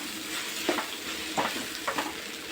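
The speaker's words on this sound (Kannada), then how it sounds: "ಎಗ್ ಬುಜ್ಜಿ ಇನ್ನೂ ಬೇಯಬೇಕು ಚೆನ್ನಾಗಿ ಫ್ರೈ ಆಗಬೇಕಿದೆ" Scrambled egg bhurji frying in a pan, a continuous close sizzle broken by three or four distinct spatula scrapes as it is stirred.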